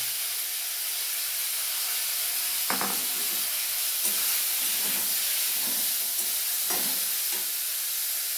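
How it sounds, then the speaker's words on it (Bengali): Strawberries hitting hot oil with mustard seeds and curry leaves, making a continuous sizzling hiss broken by several brief spatters and stirring clicks, with no talking. "এবার আমি স্ট্রবেরিগুলো দিয়ে দেবো"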